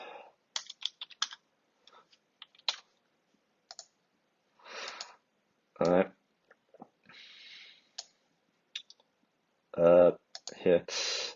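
Computer keyboard typing in short bursts of sharp clicks and key taps, with pauses between runs, close and fairly quiet; someone briefly speaks.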